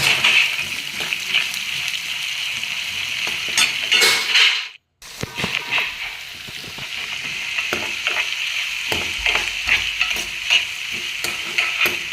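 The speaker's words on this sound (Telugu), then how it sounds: "తాలింపు వేగింది దాంట్లో ఆనియన్స్ వేద్దాం" Onions fry in hot oil tempering for an amaranth stem curry, a steady close sizzle with stirring clatter, briefly dropping out midway before resuming.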